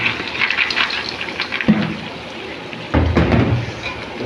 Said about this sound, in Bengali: ডাউলগুলো ঢেলে দিবেন।